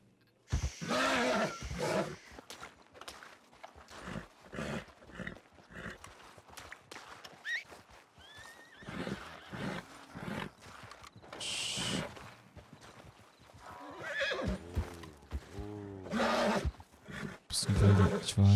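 In the Red Dead Redemption 2 video game, a horse snorts and whinnies while hooves clip-clop in uneven bursts, mixed with other loud game sounds throughout.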